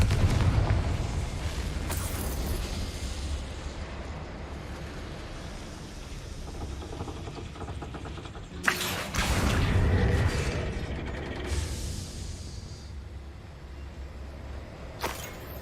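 Repeated blasting-spell explosions from the Confringo curse in Hogwarts Legacy, loud booming bursts over a constant rumbling game background, with the sharpest blasts arriving around the middle and the end.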